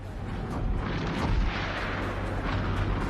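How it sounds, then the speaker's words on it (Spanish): Naval cannon fire from the battleship Schleswig-Holstein at the start of World War II, heard as a continuous rumbling barrage of deep booms with a louder blast around the middle, no voices. "Podíamos oír los cañonazos del Schleswig-Holstein."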